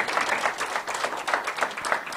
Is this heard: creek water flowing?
no